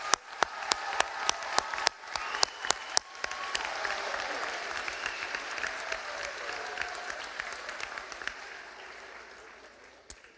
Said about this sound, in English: How about one more round of applause for all four of these great individuals?